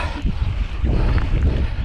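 Wind buffets the microphone outdoors on a trail ride, a loud low rumbling roar with gusty swells and no voices.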